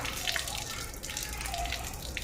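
Running water splashes as it is scooped up by hand and used to wash the face during wudu, a steady, close, wet patter with small splashes and no speech.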